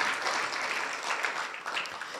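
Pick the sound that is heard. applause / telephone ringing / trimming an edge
applause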